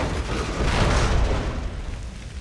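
A single gunshot in the horror video game The Evil Within, a loud booming blast that swells and rings out over a couple of seconds with no talk.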